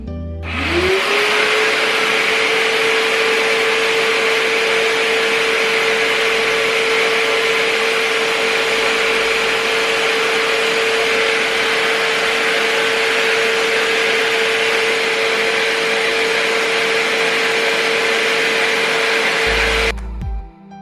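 A Bissell SpotClean ProHeat carpet cleaner switches on, rises in pitch over about a second into a loud, steady whining motor roar for nearly twenty seconds, then shuts off abruptly, with no talking.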